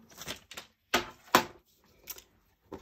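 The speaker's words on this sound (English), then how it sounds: "And then I'm going to come up above the flag and cut there." Scissors cut through paper for a card craft, producing several short crisp snipping bursts in an irregular rhythm, close and quiet with silent gaps between.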